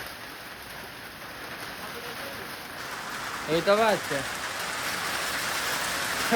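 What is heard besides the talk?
rain pattering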